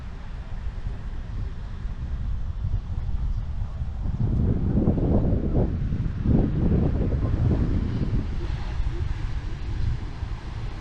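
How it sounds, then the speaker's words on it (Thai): Strong wind batters the microphone at Karon beach in Phuket, Thailand, as a constant low roar with heavy gusts swelling midway and easing toward the end. "ขึ้นลมแรงนะ ดูดิ"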